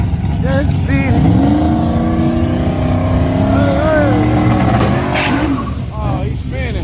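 A race car spinning its wheels off the starting line at a drag strip, the engine roaring and revving in rising and falling whines with tire squeal, loud and continuous throughout.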